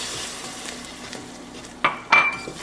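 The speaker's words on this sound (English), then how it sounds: "Stir that around." A spoon stirs apple pie filling in a pot over a quiet simmer, then knocks twice against the metal with sharp clinks near the end.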